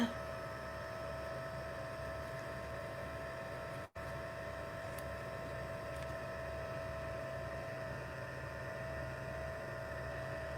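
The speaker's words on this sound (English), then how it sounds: "So I'm going to bring in my heat gun now. Give it a bit of a heat." A heat gun blows steadily over wet watercolour paint, a constant airy hum and whoosh with a brief dropout partway through, otherwise unchanging and close.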